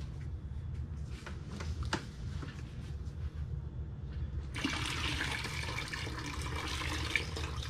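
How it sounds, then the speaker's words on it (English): Water pours steadily from a seedling tray back into a bucket, a continuous splashing trickle that swells into a brighter, fuller rush partway through, close by and with no voices. "I'm almost holding it basically fully vertical until all the water comes out."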